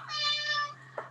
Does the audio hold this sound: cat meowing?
yes